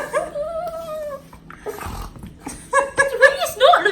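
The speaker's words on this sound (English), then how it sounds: "So what are you snorting for?" A puppy snorts and whimpers in short, uneven bursts, close to the microphone, with squeaky, whiny cries mixed in, some of them rising toward the end.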